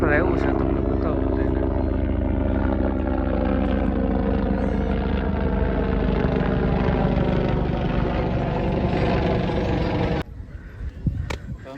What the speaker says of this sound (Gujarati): હેલિકોપ્ટર આવ્યું છે તમને બતાવું